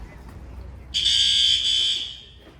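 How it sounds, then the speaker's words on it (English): A shrill electronic alarm in a Lowe's garden center blares suddenly as a steady high-pitched tone for about a second, then fades, following quiet background ambience. "Some sort of alarm."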